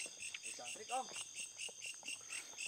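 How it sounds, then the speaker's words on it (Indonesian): Grasshopper-like insects chirp at night in the Indonesian countryside, a steady run of rhythmic, high pulsing trills heard close and fairly quiet, with a brief faint voice murmuring underneath. "Ini bukan jangkrik Mas. Ini apa namanya ya? Seperti belalang ya."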